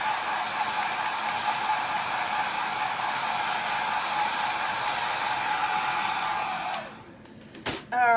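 Hair dryer drying ink on a Chalk Couture Christmas pillow, a loud, steady close-up whoosh that runs for about seven seconds, then cuts off with a short click and a brief restart at the end.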